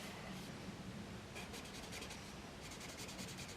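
Chisel nib of an alcohol art marker swatching on paper, giving soft dry rubbing and scratching strokes in short bursts, close and fairly quiet over steady hiss.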